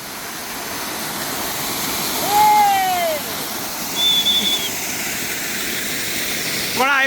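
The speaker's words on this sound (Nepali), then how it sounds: "यो चाहिँ यहाँको चाहिँ लोकप्रिय झरना रहेको छ।" Rupse waterfall on the road toward Mustang in Nepal roars as a steady, dense wash of falling water throughout, with a few brief high whistling tones rising above it.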